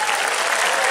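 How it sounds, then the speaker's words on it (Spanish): Steady, dense applause from an audience at a posthumous tribute event, a continuous loud wash of many hands clapping throughout the short moment. "Aplausos, que se escuchen los aplausos"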